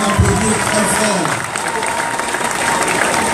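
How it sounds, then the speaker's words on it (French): A rally crowd applauds loudly at a big political gathering in Libreville, with dense steady clapping and some cheering throughout, while a voice carries on over the ovation. "je vous demande d'applaudir très fort"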